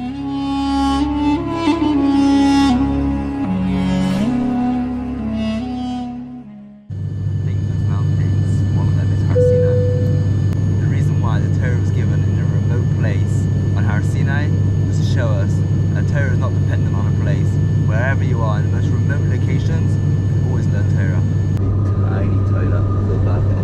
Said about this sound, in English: Very excited to fly Air Cairo, this tiny turbo plane.